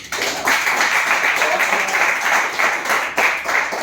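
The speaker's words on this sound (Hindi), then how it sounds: "सबसे पहले हर्षा जी के लिए एक जोरदार ताली होनी चाहिए" Hall audience giving loud applause at a motivational business success-story event, dense sustained clapping filling the room for several seconds with a brief dip near the end.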